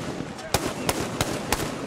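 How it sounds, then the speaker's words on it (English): Four sharp gunshots crack out at irregular intervals against a rumbling, noisy outdoor city background in Tripoli, Libya, fairly close and loud. "Gunfire ripped across Tripoli."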